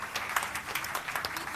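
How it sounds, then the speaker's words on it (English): Audience applause at an awards ceremony, a brief quiet patter of many hands clapping, faint and somewhat distant, with a murmur of voices underneath. "more than deserving to receive a continuous applause"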